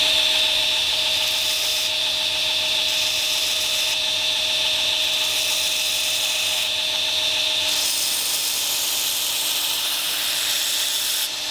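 Continuous harsh abrasive grinding as bevels are ground on a knife blade made entirely of wood, steady and close, with slight shifts in pitch as pressure changes, no talk.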